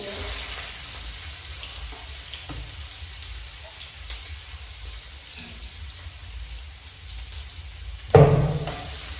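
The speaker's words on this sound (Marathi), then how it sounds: "पण त्याआधी नाही ते मी कांदा टोमॅटो छान तेलात परतून घेते." Onion and tomato sauté in hot oil, a constant moderate sizzle and hiss with faint stirring, closing on a sharp louder clatter near the end; no one speaks.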